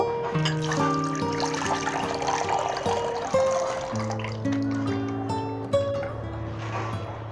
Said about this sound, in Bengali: ডাব চিংড়ি করার জন্যে জলটা আমি ঢেলে নেব